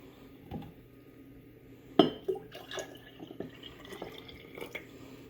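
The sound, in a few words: pouring cold milk into mason jar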